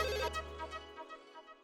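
A telephone rings at home, a sharp electronic ringtone that starts bright and loud, then drops to a softer repeating warble that fades over the next second or so, with no voices.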